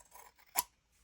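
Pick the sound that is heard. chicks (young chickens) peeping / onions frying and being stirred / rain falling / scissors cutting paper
scissors cutting paper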